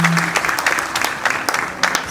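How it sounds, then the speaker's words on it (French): Guests at a golden wedding anniversary celebration applaud the couple's children with loud, close, continuous clapping that fills the room, individual claps standing out in an uneven rhythm. "Je voudrais qu'on commence par acclamer ces enfants-là"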